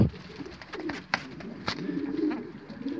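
Breeding pigeons coo softly in a loft, low burbling calls repeating close by amid light rustling and a few sharp clicks, with no speech.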